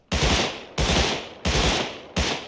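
Four bursts of Thompson submachine gun hip fire ring out in the Rust Console video game, each a loud, close rattling volley separated by short gaps.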